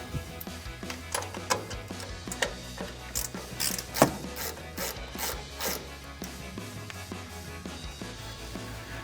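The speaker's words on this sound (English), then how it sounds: "So we'll take a 14mm ratcheting wrench to do so." A 14mm ratcheting wrench working strut tower nuts on a Toyota 4Runner, rapid clicking ratchet strokes in uneven bursts, close up over a low background hum.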